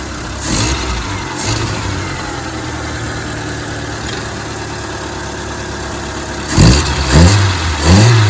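A Saturn car engine, recently fixed of a long-cranking fault, runs steadily at idle, then revs up sharply in a few quick bursts near the end, close and loud.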